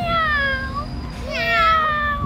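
A woman imitates a cat with her voice, giving two drawn-out, plaintive meows one after another, close and clear.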